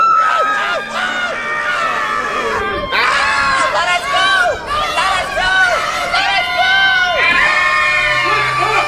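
A crowd of cartoon children scream and shriek loudly and continuously in high, wavering cries, close and chaotic, with shouting voices mixed in.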